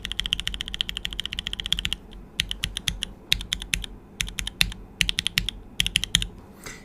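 Mechanical keyboard with Kiwi switches typed on in quick bursts, crisp clacky keystrokes close up, with short pauses between runs of keys.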